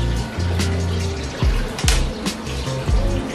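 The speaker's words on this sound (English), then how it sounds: "I have submersible pump and I have a tube connected to the submersible pump, and the water is running through this pipe" Water from a submersible pump running through a pipe in a tubifex worm culture setup, a close splashing and gurgling flow with low rumbling and a few sharp drips or bubbles.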